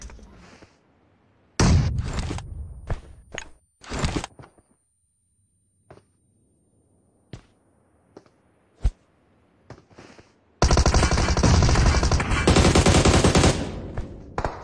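Loud bursts of automatic rifle fire and single gunshots in the battle royale game PUBG, coming in several sharp volleys separated by silences, with a long sustained burst at the end.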